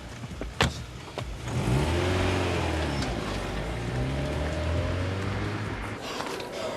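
A taxi engine starts and pulls away, revving up into a rising, sustained acceleration nearby. The engine drone settles and fades slightly toward the end, with no voices.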